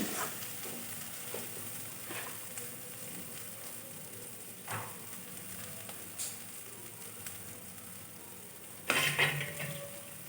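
Ground cumin and spice mix frying over medium heat in a pan, a soft steady sizzle broken by occasional scrapes and clinks of a spoon stirring against the metal, with a louder clatter near the end.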